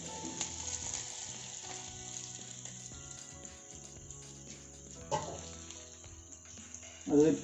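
Pork pieces sizzling and frying steadily in a pan for a Kerala pork fry, with a continuous crackle and occasional louder clatter of stirring near the end.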